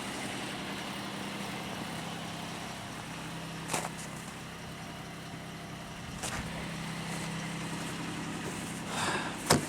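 A Pontiac Aztek with a service engine light problem idles steadily, a close, even low engine hum with a few faint clicks and knocks over about ten seconds, no talking.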